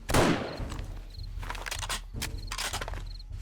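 Rifle fire in the zombie survival game 7 Days to Die: one loud close shot up front, then a run of sharper, quieter cracks at a steady pace over a low constant rumble, with no talking.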